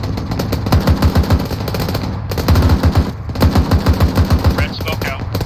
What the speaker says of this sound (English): We are returning fire.